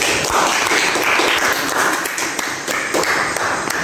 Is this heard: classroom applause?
yes